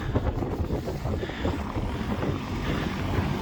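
Steady wind in Iceland buffets and rumbles across the microphone, a continuous low roar with gusty fluctuations and no voices.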